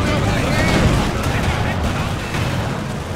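Katyusha rocket artillery fire in Company of Heroes 2 during a Rzhev winter battle: a loud, dense, continuous rumble of launches and blasts filling the whole stretch without pause.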